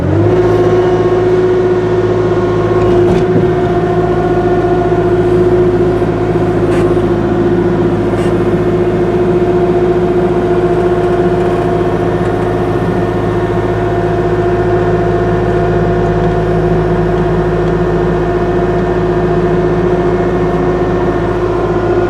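Bucket excavator engine revving steadily as the machine tries to drive out of a freshly dug hole on an off-grid homestead, a loud continuous low rumble with a constant tone throughout and no talk.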